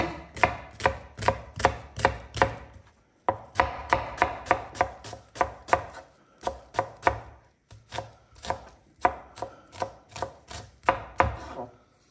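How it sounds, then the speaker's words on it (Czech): A knife chops onion on a board in quick, even bursts of sharp close taps, with short pauses between the runs. "Už tady mám trochu cibule, takže si ještě nakrájím trochu"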